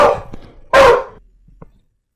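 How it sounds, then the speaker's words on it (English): A dog barks nearby in a few loud, deep, almost wolf-like bursts, with one strongest bark in the middle and a faint whimper afterward, inside a quiet home. "they hear that almost wolf-like barking"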